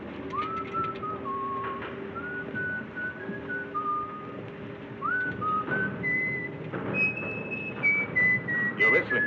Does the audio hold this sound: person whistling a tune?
yes